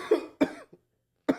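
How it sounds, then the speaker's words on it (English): Three harsh coughs come close and loud after a hit from a cannabis vape pen, the first two in quick succession, then a short gasp, a pause, and a final cough. "Oh, he's gonna cough a little bit."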